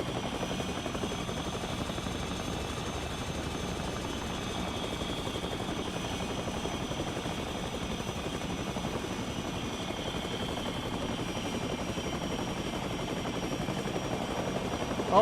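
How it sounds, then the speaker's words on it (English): A helicopter flies in a video game, its rotor giving a steady, even thrum with a constant engine whine above it, holding at the same loudness the whole time and heard alone. "You can't see me because I'm in my chopper."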